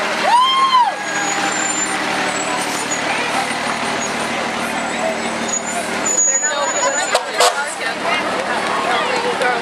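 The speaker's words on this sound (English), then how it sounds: "Another fire truck." Fire truck rolling past in a small-town 4th of July parade, a deep diesel rumble with a brief siren whoop and air-brake hiss, close by, under crowd chatter and voices.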